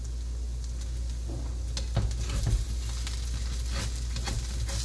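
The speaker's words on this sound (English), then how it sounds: "I hate cooking on bad pans, but we're going to do it anyway." Onion and garlic mashed potato pancakes fry in a poor-quality pan, a loud constant sizzle with scraping and stirring knocks around the middle and later, and no talking.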